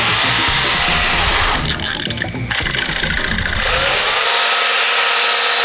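A power saw runs loudly and steadily during the building of a toy car, with a grinding, ratcheting texture. Its pitch shifts briefly partway through, and it winds down to a lower hum near the end.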